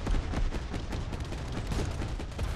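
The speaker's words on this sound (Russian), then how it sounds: "пушка начала долбить веерами" Rapid cannon bursts in a Micro Machines-style combat racing video game, a dense, continuous volley of shots fired in fans, loud and close with no pauses across the stretch.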